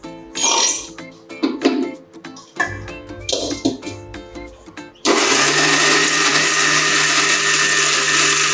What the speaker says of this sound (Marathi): आणि हे आता एकदा मी मिक्सरला हे सगळं जो करून मिक्सरला एकदा काढून घेणार नाही.